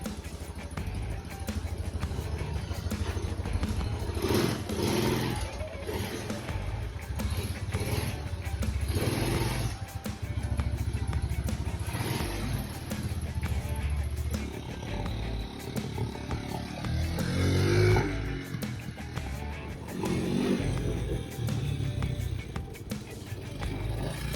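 The engine of a 1982 Honda ATC Big Red 200E three-wheeler runs and revs unevenly, loud and close, with its pitch rising and falling over a rough, rattling drone.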